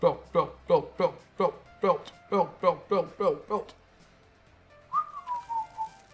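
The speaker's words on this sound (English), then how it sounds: "I shouldn't whistle." A person whistles a tune in about a dozen short, regular, breathy notes, close and fairly loud, then a few softer sliding whistled notes follow after a brief pause.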